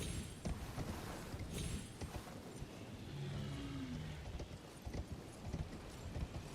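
Horse hooves clop in an uneven rhythm over a low rumbling background, with a brief soft whinny-like tone midway, from the video game Elden Ring.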